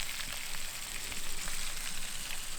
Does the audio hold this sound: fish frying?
yes